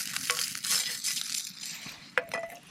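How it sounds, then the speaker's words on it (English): Beef fat renders in a small pan beside a steak, with a close, uneven sizzle, spitting crackles and a sharp clink of a utensil near the end. "I'm gonna render out some of this fat right here in this little pan"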